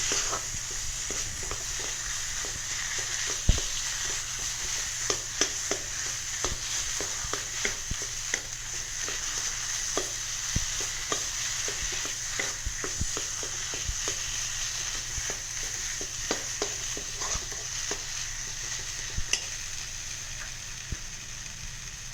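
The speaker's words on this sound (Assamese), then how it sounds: "লৰাই ভাজি দিওঁ" Vegetables sizzle and crackle steadily in a hot pan, with scattered sharp clicks of a spatula stirring throughout, fairly close and continuous.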